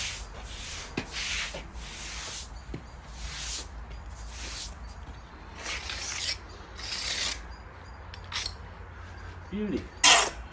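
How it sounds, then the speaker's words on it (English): Repeated rough scrubbing strokes of a stiff brush over damp grout joints on a patio, coming in steady rhythmic bursts close by, with brief pauses between passes. "Back over with a brush again."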